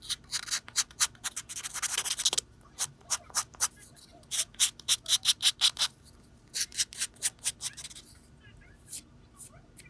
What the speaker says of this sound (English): We're just going to sand down the edges a little bit, just to make it even around the edge.